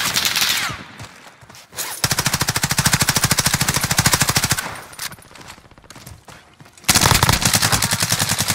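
Machine gun fire in the Warzone battle royale shooter game: two long, loud, rapid sustained bursts, one around the middle and another at the end, with quieter gaps of ambient noise between them.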